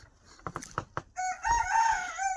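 A turkey gives a few short, sharp clucks, then a long, loud, crowing call that rises and holds near the recorder, with no other sound around it.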